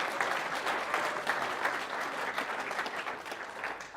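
A crowd applauds Caleb at a keynote talk, a brief, continuous wash of many hands clapping at moderate volume with no voices over it.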